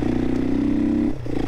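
The single-cylinder engine of a Herald Brute 500 motorcycle drones close and loud at steady revs, dips briefly, then picks back up, with no talk over it.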